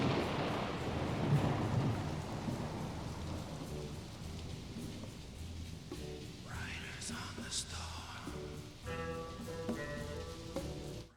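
Storm sounds of rain and rolling thunder from a song: a steady hiss of rainfall with low rumbles, later joined by faint whispered vocal and musical tones.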